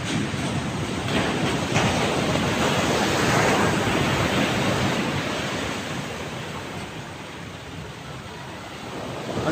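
Large sea waves driven by Typhoon Enteng crash against a shore where boats have been pulled up, a continuous loud surf roar that swells and slowly eases, with no voices.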